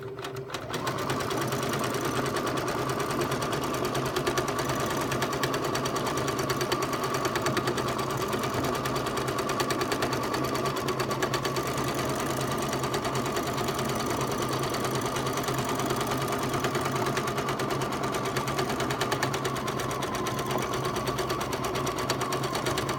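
Sewing machine stitching a mini meander quilting pattern across a row, running steadily and evenly for the whole stretch with a constant mechanical hum and rapid needle chatter, close by and without speech.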